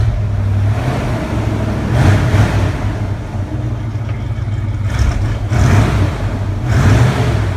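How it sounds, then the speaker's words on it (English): Engine of a 1974 Chevrolet Blazer idling in a garage, with steady low throbbing punctuated by several short revs that swell and fall back, loud and close. "give it a little rev here"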